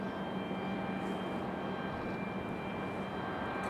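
A Delta airliner flying far off near Raleigh-Durham International Airport, a faint, steady distant engine roar against quiet outdoor background with no talking.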